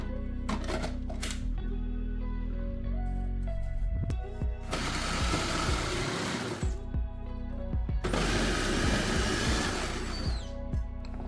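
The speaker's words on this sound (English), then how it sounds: "to make my life easier, I'm going to be using this food processor I recently bought" An electric food processor grates apples, its motor whirring loudly in two long bursts, with clatter and thuds of fruit pieces dropping through the blade between them.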